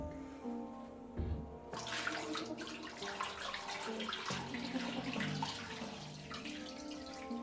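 Water runs from a tap into a washbasin to leak-test a newly fitted Hansgrohe designer siphon, starting as a steady, full rush after a quieter moment and continuing without pause.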